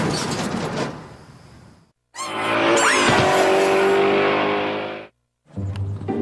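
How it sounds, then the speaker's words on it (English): A car slides sideways through tight S-turns on a driving-course challenge, its tires squealing loudly in long sustained bursts while the engine roars close by, separated by brief silent cuts. "Canada's worst drivers are learning how to slowly slide a car sideways by doing S-turns."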